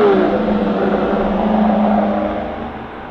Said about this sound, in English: the Ferrari 250 Europa Vignale asserts its dominance with an exhaust note that transcends mere admiration